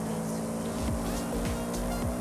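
A Subaru WRX engine in Forza Horizon 5 revs hard near its redline, a buzzing, steady drone with quick drops and rises between gear shifts, loud and close with no talk over it.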